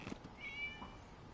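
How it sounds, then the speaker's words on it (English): A cat in Genshin Impact lets out a single short, high meow, faint and alone against a quiet background. "It was just a cat."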